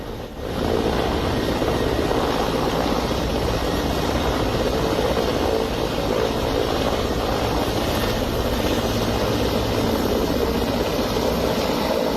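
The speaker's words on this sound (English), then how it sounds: "Helicopters play a crucial role during forest fires because they can scoop and drop massive amounts of water in a very short time" A firefighting helicopter working over a forest fire, a loud, steady broadband engine and rotor roar that holds constant throughout, with no voices.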